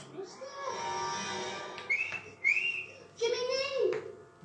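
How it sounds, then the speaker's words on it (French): In a French recording of the Pinocchio story, a few short rising and falling whistled notes sound close and clear, mixed with a voice speaking. "Dès qu'il eut sifflé, Gemini apparut"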